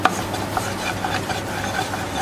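A spoon stirs etouffee in a pot, steady scraping and rubbing strokes at close range with faint sizzling underneath, no voices.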